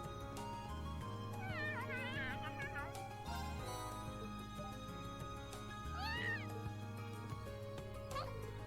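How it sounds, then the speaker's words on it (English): A cat in the video game Trails of Cold Steel meows several times in short, rising calls over a steady game music background, fairly faint. "Hey there, kitty."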